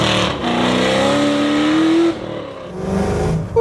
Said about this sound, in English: that supercharger is screaming!